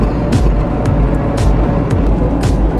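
A 2014 UAZ Patriot drives along, heard from inside as a loud, steady low engine and road rumble with occasional faint rattles and bumps, and no talk.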